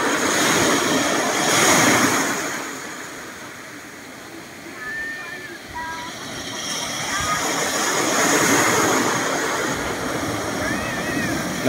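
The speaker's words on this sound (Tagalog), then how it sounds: "sobrang daming bato na hinaampasan ng dagat" Sea waves surge and break against a thickly rock-strewn shoreline at Paratong Beach, La Union, a steady broad wash of surf swelling and easing over the whole stretch, with faint voices and bird-like chirps in the background.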